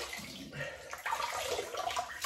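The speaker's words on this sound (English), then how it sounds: "now we'll wet the face" Water splashing as a face is wetted at a sink before a wet shave with a Merkur Futur razor, a continuous moderate wash of sloshing and trickling that swells louder in the second half.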